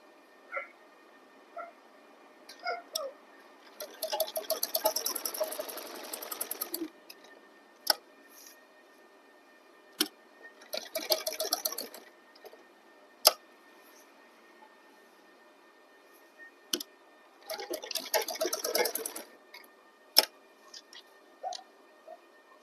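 A sewing machine stitches a kurta placket in three bursts of rapid, even mechanical chatter, with quiet pauses and sharp clicks between the runs.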